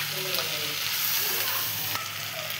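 Potato, eggplant, spinach and fried snails are stirred in a frying pan, giving a loud, steady sizzle with soft scraping from the stirring, close and continuous.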